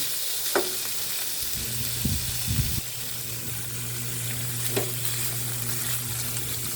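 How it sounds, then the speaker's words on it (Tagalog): Garlic, onion, meat and liver sautéing in a pan give a steady sizzling hiss throughout, with a few clanks and scrapes of a stirring utensil against the pan; no talking. "Nagigisa na ako ng bawang, sibuyas"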